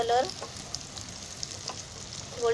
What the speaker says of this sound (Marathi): तर गॅस फास्ट ठेवला आहे, म्हणजे कसे ऑरेंज कलर होईपर्यंत आहे ना अशी चांगली फ्राय करायची आहे.